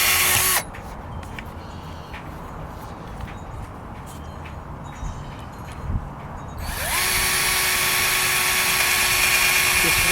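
A Black + Decker combo drill with a wobbling bit whines briefly at the start. After a long, quieter stretch of low background noise, it runs loud and steady through to the end.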